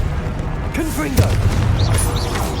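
Confringo fire spell explosions from the video game Hogwarts Legacy, low booming blasts with bright crackling bursts mixed with game sounds, a voice speaking over them.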